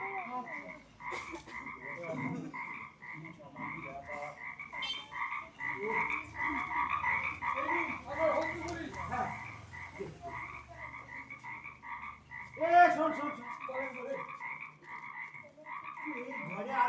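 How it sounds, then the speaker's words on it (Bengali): A frog croaks over and over in a steady, fast pulsing rhythm, clear and moderately close, with faint low background sounds and no talking. "শুধু আমি ব্যাঙের ডাক শুনছি"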